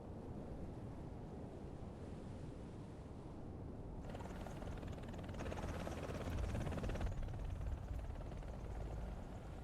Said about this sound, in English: That engine startup sound I freaking love.